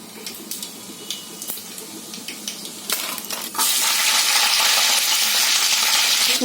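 Cumin seeds dropped into about a spoon and a half of hot oil for sambar crackle with scattered clinks and stirring taps, then burst into a loud, steady sizzle.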